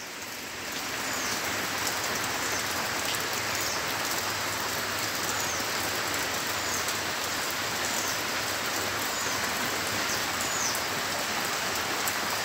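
Heavy afternoon rain falling steadily over a rural yard, a dense even roar of drops that swells in during the first second and stays constant, no talking.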